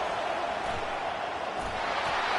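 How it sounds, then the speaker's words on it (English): Stadium crowd noise at a Penn State football game: a dense, steady roar of many voices, loud and continuous throughout without a clear single speaker. "This crowd bringing the energy and noise early."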